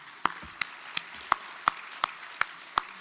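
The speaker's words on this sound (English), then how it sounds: "Please give them all another round of applause" Sparse, sharp claps ring out at a steady, almost rhythmic pace, about eight in three seconds, close and distinct rather than a full crowd, at an anniversary celebration and awards gala.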